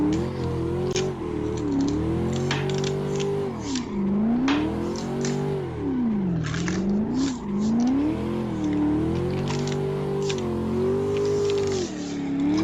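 A Corvette C6 coupe drifting at a matsuri event revs hard, its engine pitch rising and dipping repeatedly as the throttle works, with intermittent clicks and ticks over the continuous roar.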